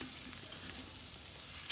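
Pork belly sizzles steadily as it slowly roasts over a low fire on a cheap secondhand grill outdoors on a rooftop, with a constant crackling hiss and scattered sharp pops, close and moderately loud, no talking.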